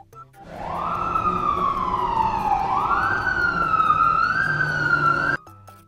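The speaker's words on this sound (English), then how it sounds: "And this is a red fire engine." A fire engine siren wails steadily up close, one long tone that dips lower then climbs again, with a low engine rumble underneath.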